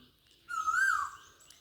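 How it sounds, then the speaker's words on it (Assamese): A single clear rising whistled call of an Asian koel rings out, fairly close, against a quiet background. "ধুনীয়াকৈ মাতি আছে কুলি"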